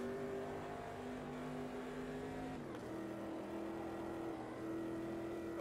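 A Corvette C3 in the Automobilista 2 video game, its engine droning steadily with a tonal whine, rising in pitch as it accelerates, then a brief dip at a gear change before climbing again; fairly quiet and with no talk.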